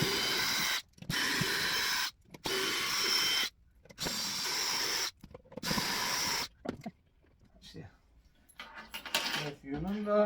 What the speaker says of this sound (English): Just take the screws out quickly.